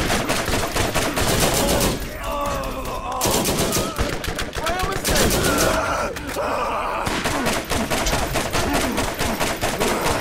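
A turret pours out continuous rapid machine-gun fire in the Borderlands video game, loud and dense for the whole stretch with only brief dips, amid explosions and game sounds.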